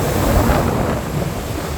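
Rough sea surges against the Jaffna coast in a loud, continuous roar of crashing waves, with heavy wind buffeting the microphone throughout.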